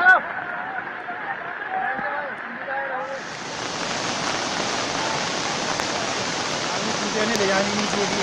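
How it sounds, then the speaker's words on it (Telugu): Flash-flood water rushing after heavy rains in Uttarakhand, a steady loud broadband roar that builds and fills the clip, with a voice talking over the opening seconds. "ఎడతెరిపి లేకుండా వర్షాలు కురుస్తుండడంతో వరదలు ముంచెత్తాయి."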